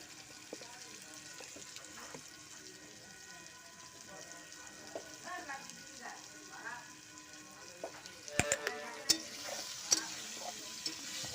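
Something fries quietly in a pan with salt, turmeric and green chilies, a low steady sizzle with soft stirring scrapes, then a cluster of sharper clinks and knocks against the pan near the end.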